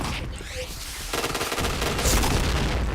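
Bomb blasts and rapid gunfire crackle continuously in a video game as the player gets hit, dense and loud throughout with a sharper burst partway through.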